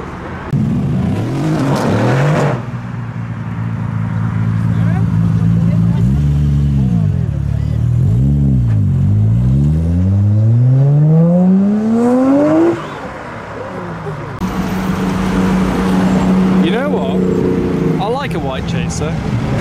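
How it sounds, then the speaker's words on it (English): Toyota GT86 pulling away from a car meet: loud engine revs rise and fall through gear changes as it drives off, followed by another car's engine growing louder near the end. "it's time to depart, including this GT86 with the Aventador rear lights"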